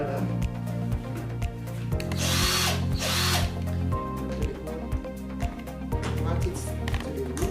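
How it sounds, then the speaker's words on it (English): A power screwdriver drives screws into wood while building a sports-themed table, its motor whirring in short repeated bursts with brief pauses between them, loud and close, with a person talking over the work. "Use my screwdriver."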